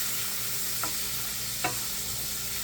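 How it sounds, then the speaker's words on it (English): Garlic sizzles steadily in a very hot pan as a close, even frying hiss, with two faint light taps from stirring and no talking. "the garlic simmer in there for a minute"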